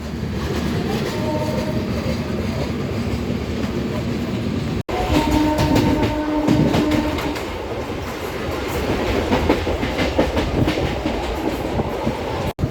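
A MEMU passenger train runs steadily on rails between Alamanda and Korukonda stations, its loud continuous rumble and clickety-clack filling the carriage, with a brief dropout midway and no talk.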